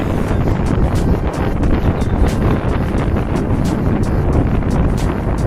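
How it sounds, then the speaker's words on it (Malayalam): Strong wind buffeting the microphone on a hilltop at Ponmudi in Kerala: a loud, continuous roaring rush that holds steady throughout, with no voices. "വൈബ് നല്ല കാറ്റുണ്ട് ഗായ്സ്"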